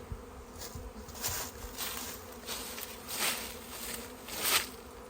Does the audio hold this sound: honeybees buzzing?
yes